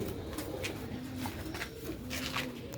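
Soft, repeated cooing from Sialkoti rooftop pigeons of a grey breed, low and rhythmic, steady over a constant background hiss with no talking.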